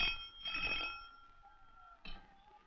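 An old telephone rings in a sustained metallic bell trill, fading briefly before a second ring starts near the end, heard close in a quiet room.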